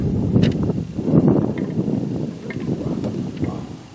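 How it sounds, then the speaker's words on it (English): Wind gusting outdoors in open air, a steady low rush with swelling buffets against the microphone, rising and easing over several seconds. "the wind has picked up just a little bit"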